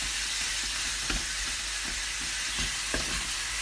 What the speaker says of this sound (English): we're heating up some olive oil, and we're going to add our minced meat. And we're going to cook this until the minced meat is browned.